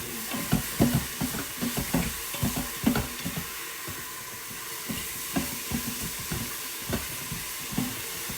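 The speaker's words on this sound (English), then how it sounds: "And stir it up." Thai coconut soup is stirred in a cooker, giving repeated soft scraping strokes in an irregular rhythm over a steady low hiss and gentle simmering sizzle, close and moderately loud, with no voices.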